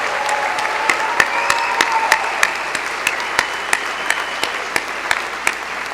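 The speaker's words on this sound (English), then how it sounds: "I think we have to give another round of applause for Amal, John, Monica, and Gabrielle." An audience at a university architecture college event gives a round of applause, with a steady wash of clapping and several distinct sharp claps standing out close by.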